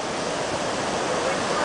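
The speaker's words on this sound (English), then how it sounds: "Look at the crashing waves" Atlantic Ocean surf at Long Beach Island, New Jersey, near Beach Haven, makes a continuous broad wash of crashing waves, a steady roaring hiss with no break and no voices.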